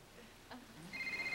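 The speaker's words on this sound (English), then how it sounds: "Whose phone is that?" A mobile phone ringing with a faint, steady electronic ring tone that starts partway in and repeats, fairly quiet against low room noise.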